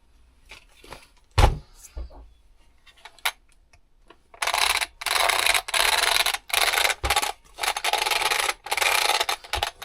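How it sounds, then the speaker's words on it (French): Small RC car giving off a harsh metallic rubbing and grinding noise in repeated loud bursts with short gaps, close up, after a quieter stretch with a few brief knocks. "il fait un sacré bruit de métal quand même"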